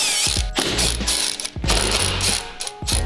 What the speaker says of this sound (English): we're gonna take off these 13mm bolts in the back